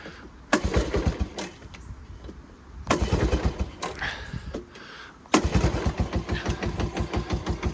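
Honda ATC 125M three-wheeler engine, warm and started with no choke, sputters through repeated cranking attempts, catching briefly before finally firing into a steady, loud putter near the end.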